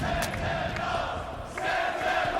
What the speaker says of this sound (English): The crowd can feel it here in KC.